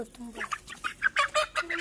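A chicken clucks in quick short bursts up close while a person talks at the same time.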